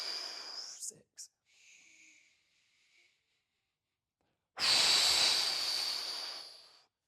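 During a box breathing exercise with a massage ball, a long, steady, close breath hisses out for about two seconds after a quieter stretch with faint breathy sounds.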